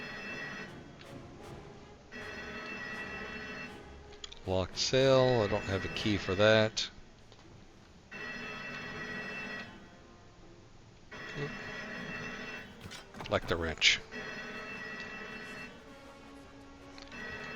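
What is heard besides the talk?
alarm ringing in Indiana Jones video game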